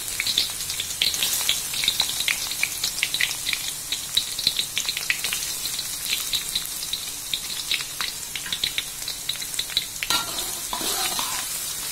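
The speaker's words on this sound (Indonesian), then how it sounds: "Tumis red onion dan garlic hingga berwarna kecoklatan dan mengeluarkan aroma yang sedap" Red onion and garlic sauté in hot vegetable oil, a steady bright sizzle and crackle with frequent spoon-scraping stirs running throughout, close and continuous, briefly easing near the end.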